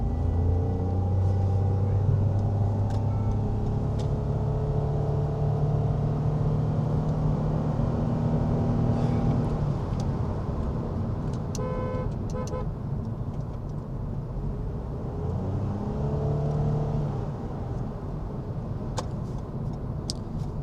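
Interior drive in a 2020 Toyota Yaris Cross hybrid with a three-cylinder engine, a steady engine drone and road rumble running throughout, rising and falling with revs, with short horn-like tones near the middle.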